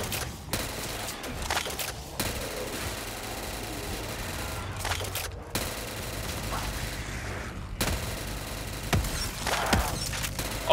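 Gunfire in a zombies video game with an infinitely tall tower, sustained rapid bursts of shots with brief pauses between volleys, loud and close, with no talking.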